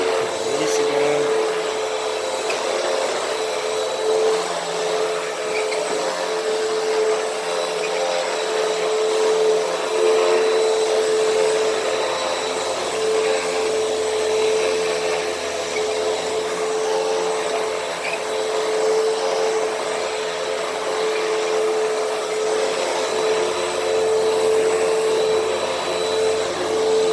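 Hoover Windtunnel vacuum cleaner running steadily while vacuuming dirt, a loud continuous motor whine and airflow roar with a strong tonal hum throughout, no pauses or breaks.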